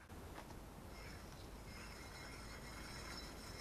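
A dry, rough, worn front wheel bearing from a PT Cruiser, removed from the car and turned by hand, giving a faint continuous grinding rasp with a steady mechanical texture.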